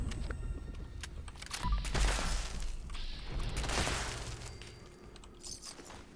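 Gunfire from a strong weapon in Fallout 76 as enemies go down, with a few sharp shots and crashing impacts over a low rumble, close and fairly loud, with no talk.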